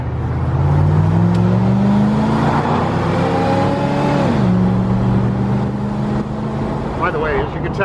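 A 1989 Avanti II-R convertible accelerating quickly, its engine note climbing steadily, then dropping at a gear change before pulling again, loud and close from inside the car, with someone talking over it.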